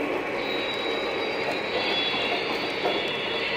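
A Lionel model train runs on a home layout, giving a steady, continuous mechanical whir and rumble at close range with no talking.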